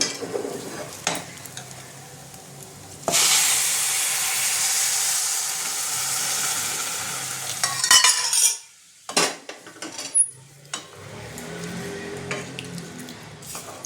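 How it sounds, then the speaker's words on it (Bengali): Grated carrots frying in a pan for carrot halwa, stirred with a utensil: a steady loud sizzle with scraping and clinking of the spoon against the metal pan, then a pause and intermittent stirring knocks. "এখন এটাকে খুব ভালো করে ভাজবো।"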